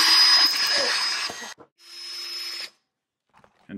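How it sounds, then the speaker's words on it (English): A power wrench whirs loudly as it backs out the screws of a shovel connector, two spinning bursts of roughly a second and a half and one second, separated by a short clatter, followed by silence and a few faint clicks. "a power wrench"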